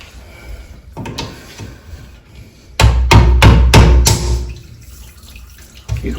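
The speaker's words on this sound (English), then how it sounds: "we got to break the PVC out of the inside" PVC pipe is broken out of a fitting inside a wall with a run of loud, sharp hammer-like knocks in quick succession mid-clip, surrounded by quieter scraping and handling noises.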